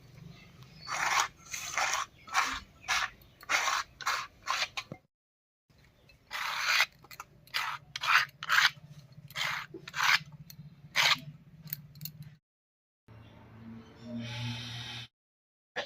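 Ground rice paste is scraped off a grinding stone in quick repeated strokes, rasping bursts in short runs separated by brief pauses, close and fairly loud, with no talking.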